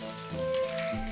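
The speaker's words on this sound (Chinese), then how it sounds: "小龍蝦入鍋油炸" Crayfish deep-frying in a pot of hot oil, giving a steady close sizzle for about a second with no voices.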